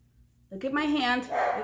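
A dog barks from somewhere in the background of a room while a person talks close up, the short barks sitting underneath the speech.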